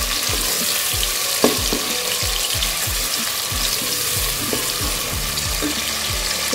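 Garlic fries in a pan for a bottle gourd and lentil curry, with a loud, steady sizzle close by and a run of rhythmic low knocks and scrapes from stirring, with no voices.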